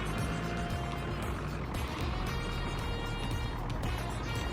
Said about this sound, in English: Oh, but listen to that engine.